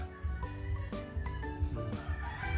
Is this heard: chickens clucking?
yes